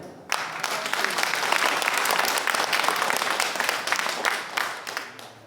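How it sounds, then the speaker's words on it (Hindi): An audience bursts into vigorous hand clapping, starting abruptly and holding as a loud, dense, continuous round of applause for several seconds before easing slightly at the end. "एक बार सब आदमी अपने अपने जोरदार ताली बजाइए"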